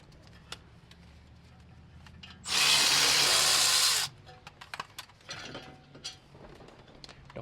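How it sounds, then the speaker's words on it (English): A socket tool working loose the brake caliper bolts on a Honda: one loud sustained ratcheting whir of about a second and a half, close by, with scattered light mechanical clicks and taps before and after. "Use a 17mm socket to remove the caliper bolts."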